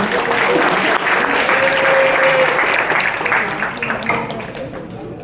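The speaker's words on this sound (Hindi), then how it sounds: "एक बार फिर के लिए बहुत जोर से तालियां।" Loud audience applause at a cultural event in Lucknow, a dense, sustained burst of clapping from a crowd that stays strong for a few seconds, with a voice briefly audible over it, then gradually thins and fades.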